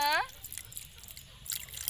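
Water is poured into a dish being cooked with omachi, sugar, fish sauce and egg, heard as a brief splashy pour near the end, after a short voice at the start.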